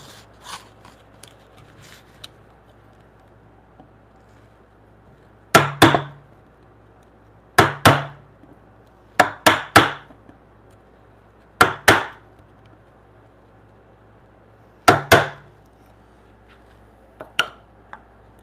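A sharp chisel is struck through mortises in timber for a timber-frame bunk bed, making loud, crisp woody chops in irregular bursts of two or three blows separated by quiet pauses.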